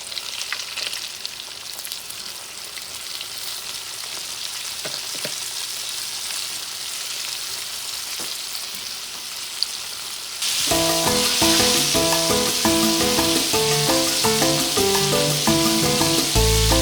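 Battered shrimp fry in hot oil with a steady, bright sizzle and crackle. Partway through, the frying turns louder and fuller, close up and with no talking.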